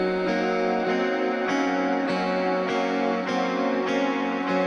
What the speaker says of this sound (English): I'm using a quarter note delay so the notes are sort of stacking on top of each other